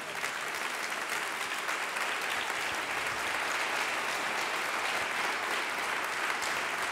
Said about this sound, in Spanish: Vamos a darle el mejor aplauso al Señor.